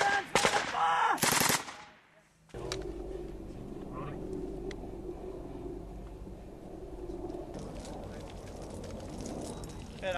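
Heavy bursts of automatic machine-gun fire crack out close and loud during an Australian troop contact in Afghanistan, then cut off into a brief hush before a steady rumbling background; voices speak at times.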